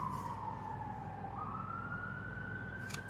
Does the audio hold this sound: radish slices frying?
no